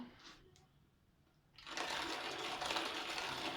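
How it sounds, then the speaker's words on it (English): A hand-cranked coffee grinder grinds coffee beans for a moka pot brew, starting after a short quiet pause and then running as a steady, dense, close grinding rasp to the end. "We are grinding."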